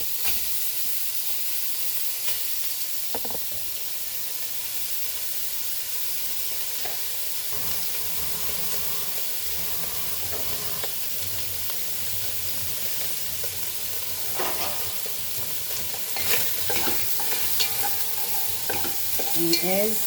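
Pork sizzles in its own released fat for a Goan pork pulao, giving a steady, close frying hiss with occasional scrapes and clatters of stirring, growing a little busier toward the end.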